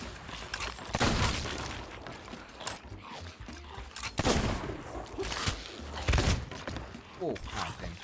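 Pistol sniping gunfire in the pirate game Sea of Thieves: a few sharp shots with mechanical clicks land around 1, 4.3 and 6.2 seconds, heard under steady talk.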